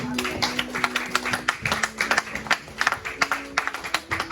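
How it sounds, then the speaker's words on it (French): A church congregation claps in praise of God, a steady rhythmic run of hand claps with a sustained tone and murmur underneath, moderately loud and continuing throughout. "On acclame l'Éternel."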